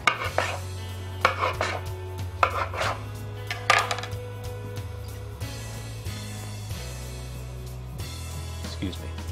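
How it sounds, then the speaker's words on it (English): A knife cuts through panettone bread for a bread pudding, with clinking dishes and cutting strokes in a kitchen over a steady low hum, louder irregular knocks early on. "And now we'll finish cutting the panettone."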